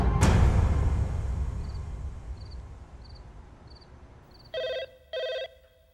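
A landline telephone bell rings in two loud, close bursts after a run of faint, evenly spaced beeps, with a sharp knock at the start and no one speaking.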